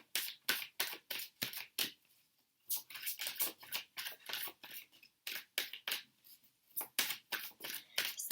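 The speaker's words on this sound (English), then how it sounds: "So I'm just shuffling for some oracle cards." Romance Angel oracle cards are shuffled in quick, crisp riffling bursts, close and dry, pausing once briefly before resuming in a steady rhythm.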